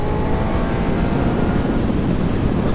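A Honda CBR600F motorcycle engine roars steadily beneath heavy wind buffeting around the rider's helmet, a constant broad rush throughout.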